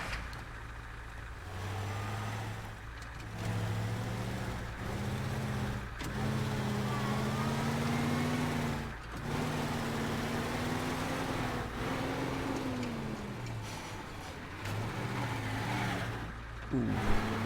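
A truck engine in Teardown, revving and droning with a clear rising and falling pitch, broken by short gaps or gear shifts, loud and close.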